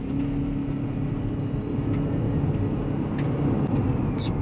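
Cabin of a 2024 Haval Jolion Ultra Hybrid (139 kW) pulling away from about 10 under throttle: a steady, close road-and-drivetrain drone with a low rumble and faint whir that holds level throughout, with no one speaking.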